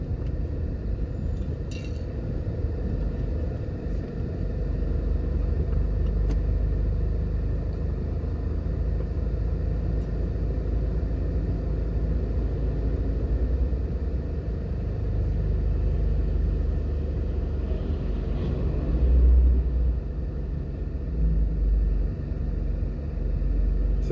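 A car drives along a road in Jamaica near Trafalgar Road, a steady low engine and tyre rumble heard from inside throughout, with faint clinks and rattles and no talk.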